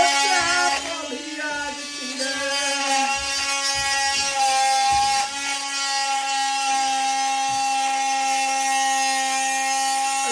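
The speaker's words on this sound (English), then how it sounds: "This is how you use a multi-tool" An oscillating multi-tool cuts during bathroom renovation work, fitting a crosswater shower. It gives a loud, steady high-pitched buzz with strong harmonic whine, held nearly the whole time, with small dips as the blade bites.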